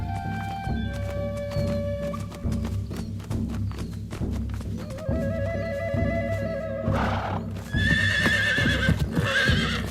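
Several horses whinny and neigh loudly and close in an animated adventure scene, with hooves clopping and thudding beneath the repeated calls and no speech.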